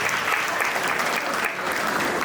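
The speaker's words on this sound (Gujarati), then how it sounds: "જોરદાર તાળી એમના માટે." Audience at a family gathering clapping loudly and steadily, with dense, continuous applause throughout.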